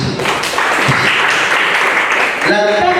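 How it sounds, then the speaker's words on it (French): Applause at a culture and arts training seminar, a steady, loud wash of clapping that runs the full length of the clip, with a voice briefly audible near the end. "Est-ce qu'on peut applaudir tout ça?"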